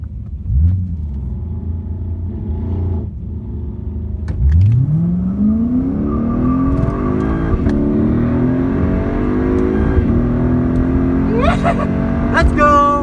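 A Lexus IS F V8 sedan launches at a drag strip against a Camaro SS, its engine rumbling at idle and then revving hard in a rising, loud pull while voices carry in the background.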